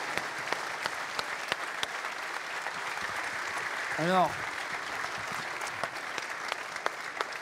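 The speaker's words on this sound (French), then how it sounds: "Applaudissements." Steady, dense applause from an audience after the mayor's New Year wishes speech in Béthune, 2024, filling the whole stretch at an even level, with a brief spoken word and a short whistle-like tone near the middle.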